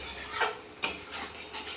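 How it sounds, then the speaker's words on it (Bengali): Spice paste for an aloo potol korma with potato and pointed gourd being stirred in a pan, with a few brief scraping, rasping strokes and a faint sizzle underneath. "মশলাটা একটু ভালো করে কষাই।"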